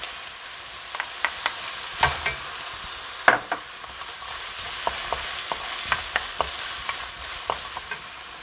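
Meat with carrot and potato stir-fried in a pan for a Chinese-style noodle dish: a soft continuous sizzle broken by repeated sharp scrapes and taps of a utensil against the pan, with no talk.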